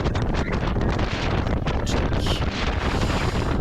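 Strong wind roaring across the microphone during a 5 km run outdoors, a loud, steady, unbroken rush of buffeting gusts.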